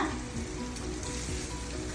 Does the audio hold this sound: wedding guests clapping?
no